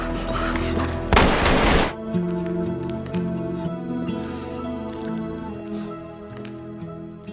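Gunfire in a film scene as an armed man shoots the people left behind: a dense, loud burst of shots about a second long, then ringing tones and a lingering musical score.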